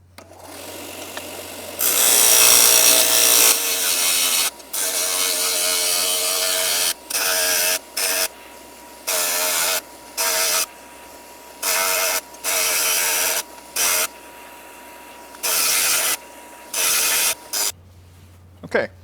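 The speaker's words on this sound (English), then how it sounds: "so now I'm gonna grind this plate" A grinder works a metal block-off plate for a Subaru WRX STi brake duct inlet in repeated loud bursts of abrasive grinding, a long burst first and then many short passes separated by brief pauses, close up.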